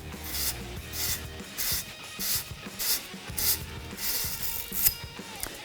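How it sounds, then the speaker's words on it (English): A combined pipe cleaning tool for 3/4 and 1/2 inch pipe scrubs the outside of a pipe in quick, regular rasping strokes, close and alone, roughly two per second. "the external cleaning here enables you to clean the outside of the pipe"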